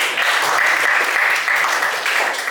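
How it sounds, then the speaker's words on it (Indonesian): Children in a classroom clap together for a fellow student, a dense, steady patter of many hands held at an even level for a couple of seconds, close by and without talk over it. "Tepuk tangan dulu untuk bagus."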